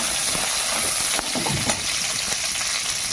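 Spices and ground ginger sizzle steadily in hot oil for tempering, a loud close continuous frying hiss with faint stirring.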